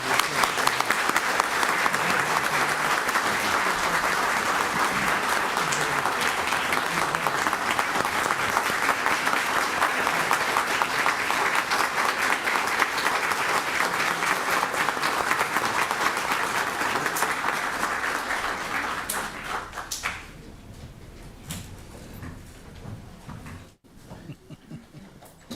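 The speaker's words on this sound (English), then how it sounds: "I think a round of applause." A town council meeting crowd gives a long, dense round of applause, loud and sustained for about twenty seconds before tapering off into quiet room noise.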